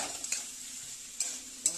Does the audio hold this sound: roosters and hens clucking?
no